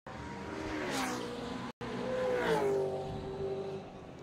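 A Porsche race car at a motor racing championship passes with a rising and falling engine roar, followed after a brief cut by another car sweeping by with revving and slight tire squeal.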